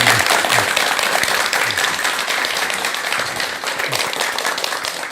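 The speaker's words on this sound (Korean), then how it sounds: "여러분 큰 박수와 함께 강의 청해 듣도록 하겠습니다." A lecture audience gives loud, steady applause to welcome a psychiatrist about to speak on anger, with dense continuous clapping filling the whole stretch.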